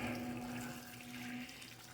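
Boiled water pours into a pot of chicken feet adobo with hard-boiled eggs, a steady close gushing stream with a faint tonal hum, no voice.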